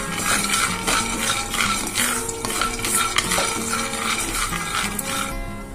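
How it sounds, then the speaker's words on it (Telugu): Peanuts dry-roasting in a pan over a medium flame, with a steady rattling, scraping stir and scattered clinks of metal on the pan running throughout, close and moderately loud, no talking. "దాన్ని మీడియం ఫ్లేమ్ లో పెట్టుకొని వేయించుకుందాము"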